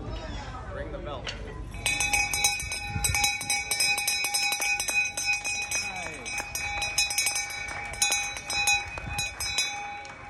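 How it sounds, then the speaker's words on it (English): At a flag raising ceremony at the Belleview Inn, a bell rings repeatedly in steady metallic clangs for several seconds, sounding fairly close, with people talking and moving about in the background. "Ring the bell."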